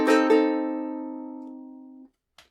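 Ukulele riff struck with two quick plucked attacks, one sustained chord ringing and slowly decaying for about two seconds before being damped, then a faint short scrape.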